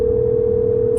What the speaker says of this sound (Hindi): ये फिर से कॉल आ रहा है।